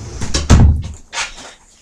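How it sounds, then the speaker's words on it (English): A bedroom door swings and shuts nearby, several quick knocks and rattles followed by a firmer closing thud, loud and close with no voices. "Hang on, just let me shut my door."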